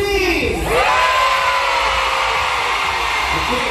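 Concert crowd at a Super Show 8 arena show in Manila screaming on cue, a loud sustained roar of high-pitched shrieks filling the hall from start to finish.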